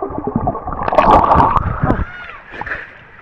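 Natural spring water running down from Mayon into Dilbis, Guinobatan, Albay, sloshing and gurgling close by, with a louder splashy burst in the middle before settling into a softer trickle.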